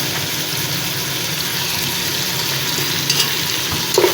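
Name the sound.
crushed garlic and ginger frying in a pan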